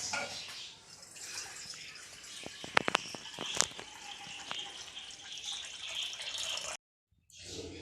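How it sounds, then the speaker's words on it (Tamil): Water running from a tap into a cooking pot before pasta goes in, a steady splashing flow with a few sharp clinks of the pot, then a brief silence near the end. "இப்போதைக்கு இந்த தண்ணியை ஆட் பண்ண போகிறேன்."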